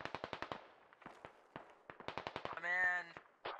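Rapid gunfire crackles in bursts during a military video game battle, Operation: Fish Hook, with sharp distant shots in quick strings under a brief voice, followed by more volleys.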